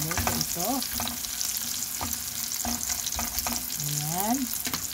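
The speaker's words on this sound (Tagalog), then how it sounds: "Nilagay ko na yung sibuyas, guys, at saka bawang. Ayan, kailangan sa browning ko siya." Chopped onions and garlic sizzle and fry in a pan, a steady crackle broken by occasional stirring scrapes, heard close with no talking.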